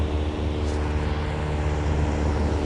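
An airplane passes overhead above a beach as a steady, low engine drone blended with the continuous wash of ocean surf.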